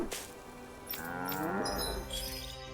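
A cow on a farm in the Tales of Arise video game lets out one long, drawn-out moo, rising and wavering over a soft background, heard fairly close and alone.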